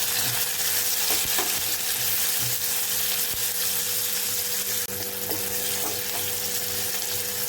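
Finely chopped tomato frying in hot oil for a cashew curry, a loud, steady close sizzle with occasional soft scrapes of stirring and no speech.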